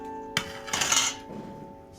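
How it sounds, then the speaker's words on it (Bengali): Metal cooking pot knocked and handled while draining starch water from boiled rice for chicken biryani, a sharp clank followed by a brighter rattling scrape, close and alone. "এই যে আমি এবার ফ্যানটা ঝাড়িয়ে নেব"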